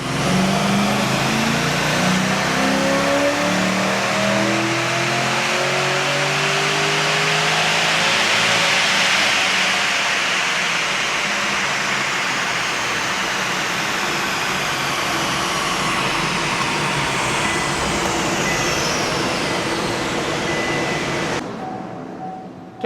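A car fitted with a GM Motorsport ST camshaft is run on dyno rollers, its engine revving hard and climbing steadily in pitch for about twenty seconds before cutting off abruptly, loud and close with no talk.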